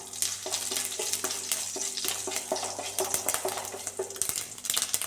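Mustard seeds crackle and pop in hot oil with a steady sizzle and sharp repeated spits, a few stirring scrapes and clinks of a pan mixed in, close and alone without any talk.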